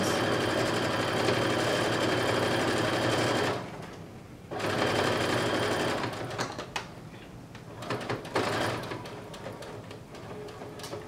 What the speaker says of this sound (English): So you're just sewing all of the seams that you just pinned.